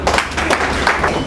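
An audience at a bootcamp session claps in a brief burst of applause, dense overlapping hand claps heard nearby for about a second.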